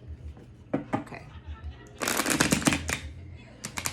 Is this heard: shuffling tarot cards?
yes